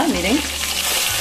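Squid (pota) frying in a pan as it is flipped over, a loud close sizzle with stirring and scraping, while a voice speaks briefly at the start.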